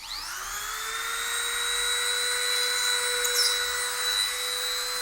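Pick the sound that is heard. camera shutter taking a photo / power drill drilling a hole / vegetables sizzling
power drill drilling a hole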